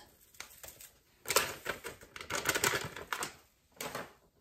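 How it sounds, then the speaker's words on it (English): A knife chopping potatoes on a cutting board, with quick sharp clicking taps in irregular bursts separated by short pauses, close and fairly loud, with no speech. "Cut up the potatoes."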